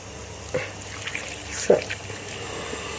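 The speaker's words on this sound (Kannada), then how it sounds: "ಒಂದು ಲೋಟದಷ್ಟು ನೀರು ಹಾಕ್ಬೇಕು" Water is poured into a mixer jar holding mint, coriander and spices, giving a couple of brief splashes against a quiet kitchen background.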